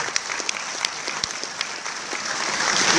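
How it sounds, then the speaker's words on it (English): An audience at a conference event breaks into applause, a dense crowd of clapping hands that swells and grows louder toward the end. "Let's give a big round of applause to Intel."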